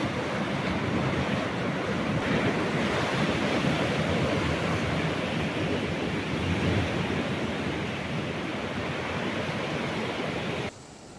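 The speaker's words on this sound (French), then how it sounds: "La vague par ici" Ocean waves breaking on a Canary Islands shore, a steady loud wash of surf rolling continuously up close, with some wind noise on the microphone and no voices.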